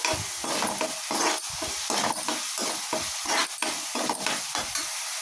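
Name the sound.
stirring turmeric into cooking dish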